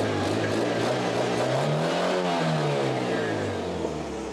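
A 2005 Bentley facelift with a W12 engine, long parked and jump-started with the bonnet open, runs steadily and rises through a rev before settling, loud and close throughout with no talk.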